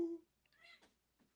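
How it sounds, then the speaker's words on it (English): A cat lets out one short, faint meow as it tries to get into a room, followed by a brief breathy sound and near silence. "Look, the cat is trying to get into the room."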